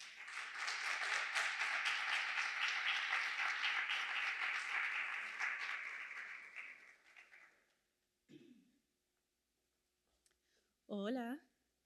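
Audience applause welcomes a guest speaker at a university talk on audio journalism, a dense, steady clapping that swells for about seven seconds, then fades out, leaving near silence broken by brief sounds and a short burst of voice.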